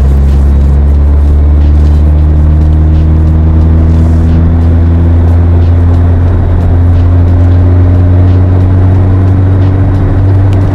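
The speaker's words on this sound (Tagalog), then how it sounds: "Ganito na yung tunog ng mga muffler niyo mga boss." Car exhaust note through a Greddy chambered muffler, a steady deep low-pitched idle drone with layered harmonics, loud and close, running alone for the whole stretch.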